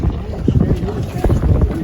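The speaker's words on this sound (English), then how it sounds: "Still slogging through a bit of wind here." A sailboat slogging through wind on an overnight coastal passage near Chance Cove, Newfoundland, with heavy wind buffeting on the microphone and low rushing water under the hull, loud and close.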